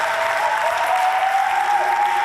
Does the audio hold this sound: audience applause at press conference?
yes